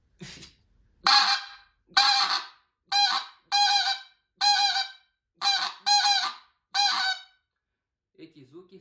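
Kynat Tundra wind goose call imitating a bean goose, played as eight loud, close honks in a steady, evenly spaced series, each a short nasal blast, with a faint softer call trailing at the end.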